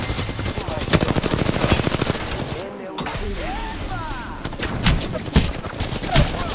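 Rapid bursts of heavy-ammo gunfire in a video game, loud and close, rattling in quick repeated volleys with a brief pause mid-way, mixed with game effects and other shots.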